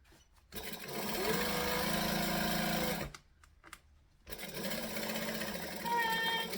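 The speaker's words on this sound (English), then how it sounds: "we're going to stitch, back stitch to lock in the stitches" A sewing machine back stitches to lock the end of a joining seam: a close, steady motor drone runs for about two and a half seconds, stops briefly, then starts again for a second run.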